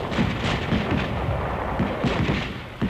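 Rapid, dense bursts of gunfire from rifles, BARs and mortars in a World War II combat setting, with repeated sharp cracks and booming thuds overlapping continuously at loud, close range.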